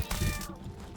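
A cat creature in the game Satisfactory lets out a short, close meow lasting under a second, loud at the onset and then trailing off.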